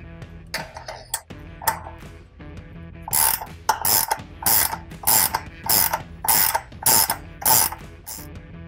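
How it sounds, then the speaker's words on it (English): A ratchet wrench clicks in quick bursts while loosening a bolt to relax a brake back spring on an Apache sprayer boom, sharp near metallic ratcheting repeated in a steady rhythm with brief pauses between strokes. "We do this by loosening the spring first and then readjusting to 4 inches of a"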